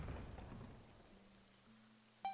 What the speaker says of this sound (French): Ouais, il pleut, ouais.